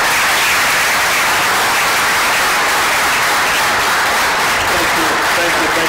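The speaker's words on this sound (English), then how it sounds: "a round of applause for our speakers" Sustained, dense applause from a live masterclass audience honoring the speakers, a loud, even wash of clapping that holds steady throughout.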